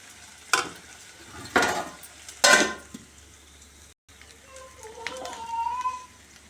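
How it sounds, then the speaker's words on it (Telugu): Goat tripe curry with chili powder and salt gets stirred in a pan, giving a few scraping, clattering strokes and a soft sizzle, with children's voices faintly in the background. "కారం వేసుకున్న తర్వాత ఉప్పు ఇప్పుడు కలుపుకుందాం"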